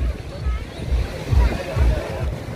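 Sea waves roll in at Baga Beach in Goa, a busy shoreline with water sports, producing a steady surf wash with periodic swells under a layer of crowd voices and wind.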